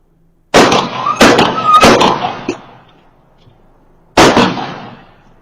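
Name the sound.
gunshots in a played recording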